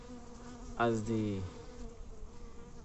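Drone honey bees, larger than the workers, give a loud, close buzzing swell lasting about half a second, with a deep hum that drops in pitch, then fade back into a quieter hive murmur.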